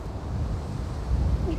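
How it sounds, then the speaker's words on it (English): Low, rumbling wind buffeting the microphone, steady and gusting a little stronger near the end, with no talking. "Oh, it is windy."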